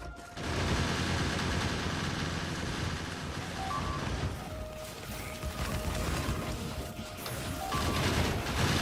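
Turrets in the video game Factorio fire continuously at attacking enemies, a dense loud rattle of rapid gunfire with booms and crashes, joined by short synthetic game beeps.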